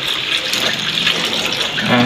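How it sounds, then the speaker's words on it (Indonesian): Water full of tofu sediment pours out in a steady loud gush during tofu making, close and continuous. "kita buang endapan-endapannya"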